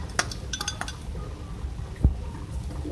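Chicken and carrot filling being mixed in a pan, with a few light metallic clinks and scrapes of a utensil against the pan and one sharper knock near the end, over a quiet background.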